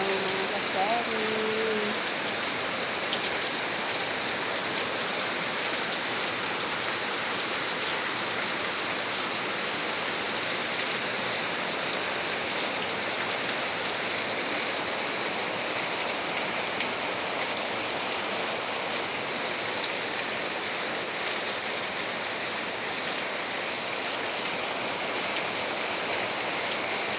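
Steady rain falls on a rainy day, a dense, even hiss of drops that holds constant throughout with no pauses, with a few brief faint tones near the start.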